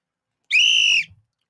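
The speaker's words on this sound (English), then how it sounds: "That was you blowing a whistle." A whistle is blown once in a single loud, steady shrill blast lasting about half a second, with no talk over it.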